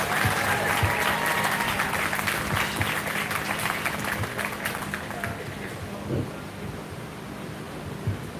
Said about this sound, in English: let's put our hands together for those exhibitors